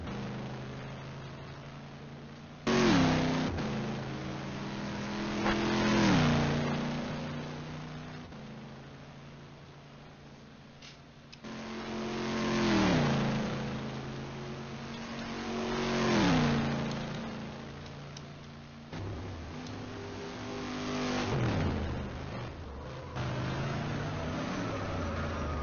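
Engines of Le Mans race cars, including the number 100 Acme Racing Vantage, in a 12-hour sim racing game, sweeping past in repeated waves of revving and upshifts, rising and fading between quieter stretches.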